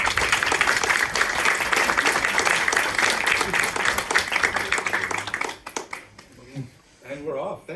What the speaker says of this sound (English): please join me in welcoming the panelists with a round of applause